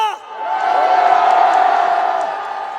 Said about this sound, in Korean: 우리의 함성이 들리십니까?